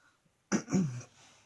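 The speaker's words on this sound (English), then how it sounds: "I keep coughing and it is annoying me" A person with a sore throat coughs and clears their throat, a sharp burst followed by a longer rough hacking cough, close to the microphone in a quiet indoor room.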